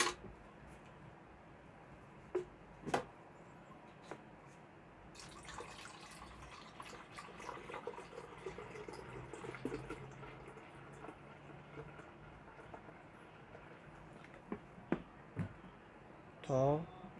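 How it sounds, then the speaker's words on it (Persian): Water pours steadily into the water tank of a Bosch espresso machine being descaled, a continuous filling rush with occasional clinks and knocks, close and fairly quiet, with no talking. "حالا میام انقدر داخلش آب میریزم تا خط به این خط برسه"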